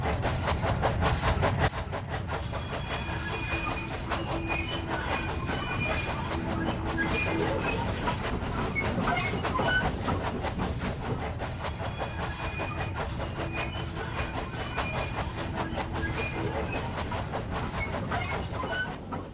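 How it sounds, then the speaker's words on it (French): Train 5024 pulling into Lusy station and slowing down: steady loud rolling rumble with clicking wheel rhythm, faint squeals and hiss running continuously throughout. "Le 5024 arrive à Lusy, il rencontre à l'entrée un rappel de ralentissement"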